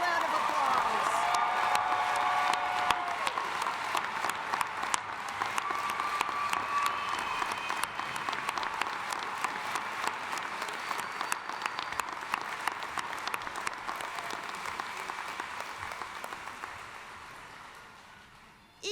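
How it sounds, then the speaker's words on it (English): Applause for graduates at a business school graduate commencement ceremony: a large crowd claps steadily for most of the stretch in a big reverberant hall, then the clapping thins and fades out near the end. "Will everyone join me giving these grads one more round of applause?"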